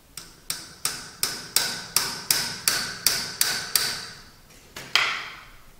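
A steady series of about ten sharp metallic hammer blows, evenly spaced, then a short pause and two final strikes, close and clear, while loosening a part during a teardown of a SICK lidar unit.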